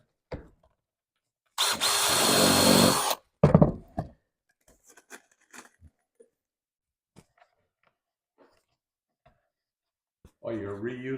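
A power drill drives screws into the mahogany bottom of a 1950 Chris-Craft U22 boat, one loud sustained whir of about a second and a half, then a shorter burst, followed by scattered small knocks and a low voice at the end.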